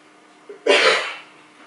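A single short, forceful cough bursts out over a quiet room, with a faint breathy tail fading after it.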